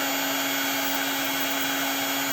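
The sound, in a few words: hair dryer running on tool battery during test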